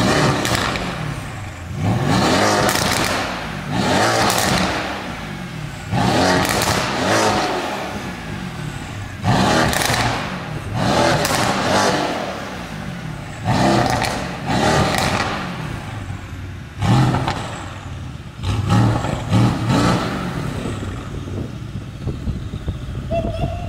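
A Mercedes-AMG GT S with a straight-pipe turboback exhaust revs hard in repeated loud bursts, each rising roar dropping back to a rough idle, close by.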